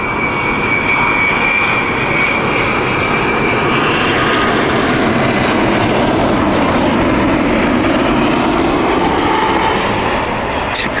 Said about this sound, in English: Tokyo flight inbound on final, folks. There she is. 787-9.